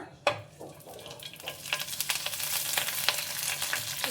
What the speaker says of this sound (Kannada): ಸೊ ಈಗ ಕರಿಬೇವು ಹಾಕ್ಕೊಳ್ಳೋಣ